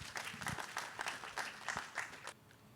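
A modest audience at a school district address claps for a student coming to the podium, a thin, uneven patter of hands with distinct individual claps, fairly quiet and dying away abruptly after a couple of seconds.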